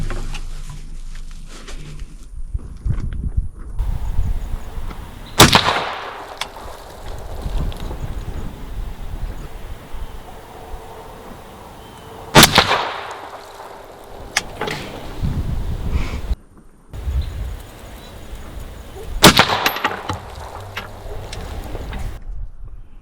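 Three sharp, loud rifle shots firing Hornady Black ammunition ring out several seconds apart outdoors, each a sudden crack with a brief echo, separated by wind noise and light handling sounds.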